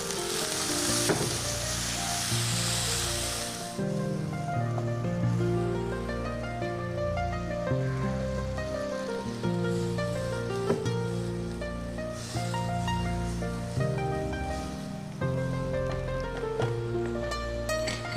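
Frying food sizzles hard as a little water hits a pan of spices with turmeric and chili powder, a loud hiss at first that soon settles under steady background music.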